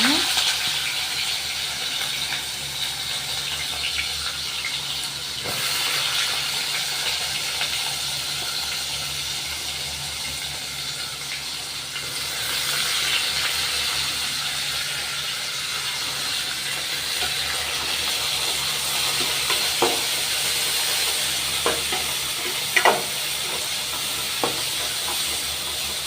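Chopped onions frying in oil with cinnamon and cloves, a steady broadband sizzle running throughout with occasional spoon scrapes and clinks, close and moderately loud.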